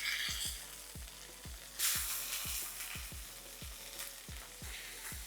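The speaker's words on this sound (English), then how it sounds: "I'm gonna flip this back over again to cook it on the other side." Mediterranean-style beef burger patty sizzling and spitting in a hot pan, a steady close fry with regular low thumps and one brief louder burst as it settles after being flipped.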